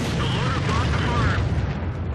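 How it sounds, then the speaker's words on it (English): An artillery shell hits the player's M41 Bulldog light tank in World of Tanks on the Malinovka map, a loud, dense boom and rumble that fills the whole short stretch with no pauses. "I got hit by an artillery."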